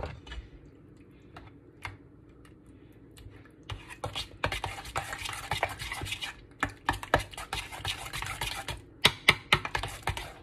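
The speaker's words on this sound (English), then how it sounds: "And I'm gonna stir that in." A spoon stirs softened butter into a sweet potato mixture in a bowl, giving quiet scraping and repeated light clicks against the dish that grow busier after a few seconds, close and soft with no talking.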